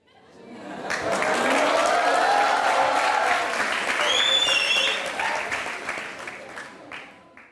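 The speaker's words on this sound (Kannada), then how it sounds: "ಇವರೆಲ್ಲರೂ ನಿಮ್ಮ ಮಾತಿಗೆ ಚಪ್ಪಾಳೆ ಹೊಡೆದ್ರು" Studio audience applauding on a TV talk show, loud sustained clapping that swells quickly, holds for several seconds with some crowd murmur, then tapers off near the end.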